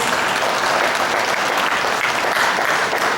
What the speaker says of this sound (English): And a big round of applause, please.